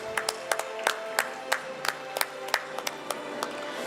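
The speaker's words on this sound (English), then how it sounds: "Clap the loudest." Sparse clapping from an audience at a college Women's Day celebration as prize winners are announced, individual sharp claps scattered irregularly over a faint room background, fairly quiet and distant.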